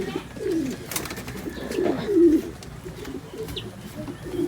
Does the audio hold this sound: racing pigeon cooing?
yes